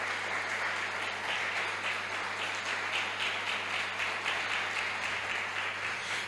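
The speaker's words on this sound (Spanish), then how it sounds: "Den un aplauso al Rey de Gloria." A church congregation applauds steadily, a thick, continuous roar of many hands clapping that holds at an even level throughout without any talk over it.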